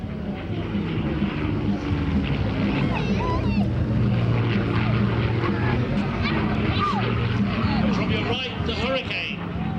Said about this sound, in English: from your left, the Spitfire.